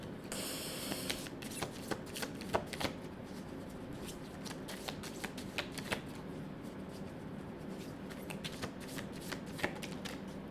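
Tarot cards are shuffled repeatedly in a quiet room, giving steady papery riffling with sharp slaps and flicks scattered throughout, close and moderately loud, with no voices.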